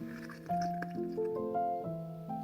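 Hot Chinese tea slurped to taste it, giving a few short, close wet sips and airy sucking sounds with watery squishes, fairly quiet.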